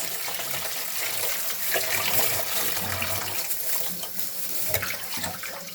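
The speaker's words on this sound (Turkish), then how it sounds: "biraz makarnamız sıcak olduğu için soğuk sudan biraz geçiriyoruz." Cold tap water runs steadily as warm cooked pasta is rinsed in a sink for a pasta salad, a continuous close splashing rush with small shifts as the pasta moves.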